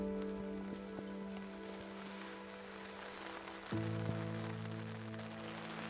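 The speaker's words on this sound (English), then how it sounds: "It's raining today, which is not good for Coues deer hunting" Rain falling in the flat Sonora desert of Mexico, a steady, even patter that holds for several seconds, with a faint low hum running underneath and no voices.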